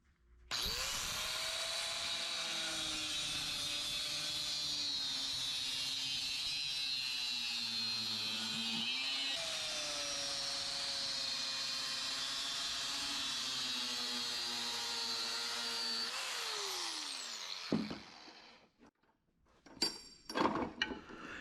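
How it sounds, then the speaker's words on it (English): A small Dremel rotary tool cuts into a satellite dish feed horn, a loud steady high-pitched whine with a shifting tone that runs for about seventeen seconds and then winds down, followed by a few short scraping knocks. "I like my little Dremel for this"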